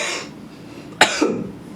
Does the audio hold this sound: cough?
yes